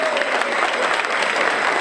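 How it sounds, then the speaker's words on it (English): Audience applause for the Guilford High School Voices choir at a Rotary senior luncheon, a steady dense wash of clapping from a crowd, loud and continuous throughout. "Give them a big round of applause."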